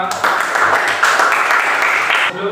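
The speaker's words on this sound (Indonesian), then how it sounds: "Sekali lagi kasih tepuk tangan untuk kalian semua." Classroom applause for student groups during a teacher-training lesson: a steady, dense patter of many hands clapping for about two seconds before it drops off, with voices mixed in.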